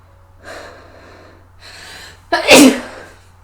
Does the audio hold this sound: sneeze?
yes